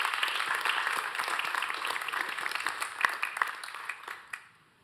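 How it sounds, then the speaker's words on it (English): A city council chamber breaks into sustained applause for local firefighters, many hands clapping steadily with a few sharper claps near the end before it tapers off to quiet. "It's a round of applause for our firefighters who saved a baby's life."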